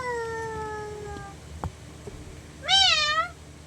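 A cat meows once, a clear rising-and-falling tonal call up close after a quieter stretch of sustained tones and a couple of small knocks, with no speech over it.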